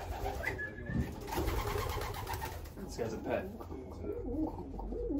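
Pigeons cooing inside a backyard pigeon loft, soft repeated throaty coos close by with a few chirps, heard under someone talking casually.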